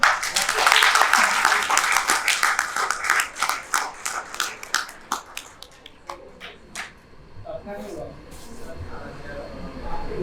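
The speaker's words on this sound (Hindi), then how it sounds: "तालियां बजाइए" A seminar audience claps in a scattered burst that thins into a few single claps and dies away, with faint murmuring voices underneath.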